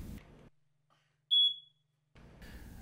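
A household smoke alarm gives a single loud, high-pitched test beep lasting about half a second, set between quieter stretches of room noise.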